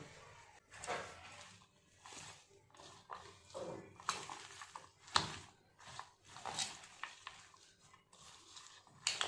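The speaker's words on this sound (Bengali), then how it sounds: "সমস্ত জিনিসগুলো একসাথে খুব ভালোভাবে মাখিয়ে নেব।" Chopped himche greens, chili and onion being mixed together by hand in a bowl, soft close squelching and rustling in uneven bursts, fairly quiet with no talking.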